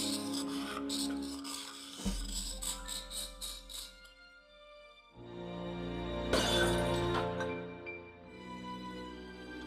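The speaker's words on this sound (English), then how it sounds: "I smashed the tall urn into tiny pieces" A tall urn smashing to pieces in Discworld Noir: a sharp ceramic crash around the two-second mark, followed by tinkling debris and rattling fragments, with background music swelling.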